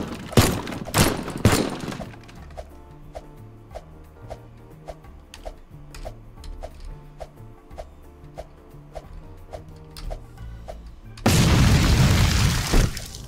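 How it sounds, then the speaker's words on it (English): Explosions in a house-decorating video game: a cluster of heavy booms opens, then a soft tonal in-game backdrop, then a loud sustained roaring blast near the end, with no voices. "I just ignore the explosions in the background"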